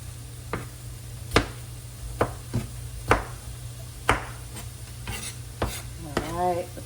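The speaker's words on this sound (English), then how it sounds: "So I just got a little bit more red pepper to slice up" A knife slices through red pepper on a cutting board while prepping an Italian keto frittata: about nine crisp, irregularly spaced cuts, close and clear over a steady low hum.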